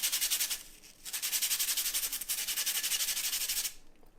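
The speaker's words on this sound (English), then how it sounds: "So I can sharpen my charcoal again," Charcoal drawing stick being sharpened with rapid rhythmic scraping strokes, close and steady, pausing briefly twice before stopping.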